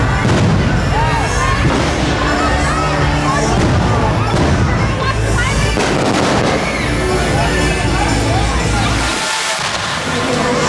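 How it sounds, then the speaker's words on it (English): Loud, dense booms and crackling bursts of Disneyland fireworks going off in rapid succession, with people talking underneath. "We live close enough to Disneyland to where we can hear the fireworks every night."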